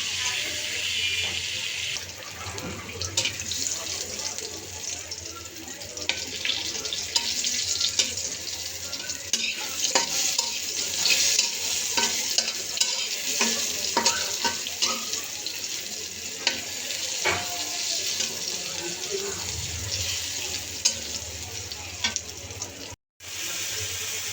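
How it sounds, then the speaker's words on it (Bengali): Small eggplant pieces coated in salt and turmeric fry in hot oil, a continuous close sizzle and hiss with occasional stirring scrapes, lasting throughout and cutting off briefly near the end. "বেগুনকে ছোট ছোট পিস করে লবণ হলুদ দিয়ে মেখে নিচ্ছি তারপরে গরম তেলে ভেজে নিচ্ছি লাল লাল করে ভেজে নেবে"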